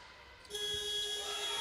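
A basketball game buzzer at a FIBA U19 Women's Basketball World Cup group-phase game, Canada against China, blares as one loud steady electronic tone over crowd noise after a quieter moment.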